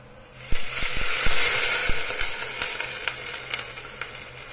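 Chicken bone broth poured into a pan of sautéed golden ginger and garlic sets off a loud, steady sizzle and hiss with sharp crackling pops, close up and without talk.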